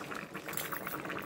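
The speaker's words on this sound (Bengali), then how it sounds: "ফুটে গেছে, একেবারে তরকারি সব সেদ্ধ হয়ে গেছে।" Pointed gourd vegetable curry boiling in a pan gives a brief, faint, steady bubbling and gentle simmering hiss.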